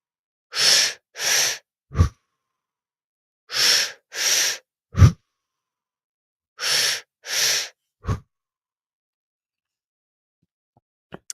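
Slow, deep meditative breaths come in close, audible pairs of inhale and exhale, each set followed by a soft low thump, with long silent pauses between.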